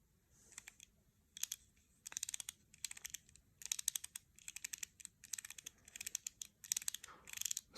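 Original Leica 35mm F2 Summicron 8-element lens in L39 mount, its aperture ring turned in quick series of crisp, close clicks, grouped into short bursts with brief pauses, alone in a quiet room.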